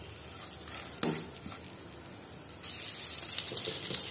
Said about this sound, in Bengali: এখন আমি এই মশলাগুলোকে একটু ভেজে নেব।